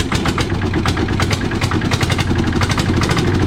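A tractor engine idles through a Chalawan racing exhaust pipe, giving a loud, steady, rapid chugging pulse with a raspy buzz, close up and uninterrupted.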